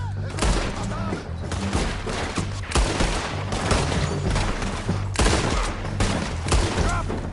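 Gunfire in the Red Dead Redemption 2 video game: loud, dense, nearly continuous volleys of shots and heavy booms throughout, with voices mixed into the din.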